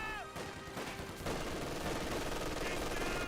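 Bursts of machine-gun and rifle fire in a Company of Heroes 2 battle, with grenadiers shooting across a flank. The rapid rattling volleys sit under an ongoing commentator's voice.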